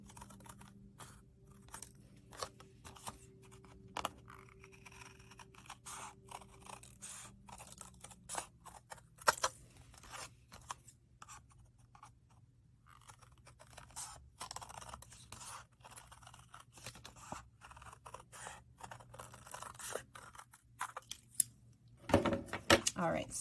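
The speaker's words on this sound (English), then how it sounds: "make sure that you've got a good pair of scissors that can cut through all 3 layers of cardstock" Scissors snip through three stacked layers of cardstock for a pillow-box gift card holder, giving faint, close, irregular crunching cuts and scrapes, with a person talking now and then.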